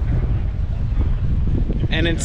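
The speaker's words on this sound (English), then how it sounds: "65 degrees and windy here, you guys." Steady wind buffets the microphone with a low, continuous rumble while a person talks briefly over it, at a port marina in Gijón, Spain.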